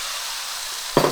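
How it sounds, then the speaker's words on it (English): Pork mince frying in oil in a pan gives a steady, hissing sizzle, with a brief scrape of stirring near the end. "we're gonna pop in our pork mince and start frying that off"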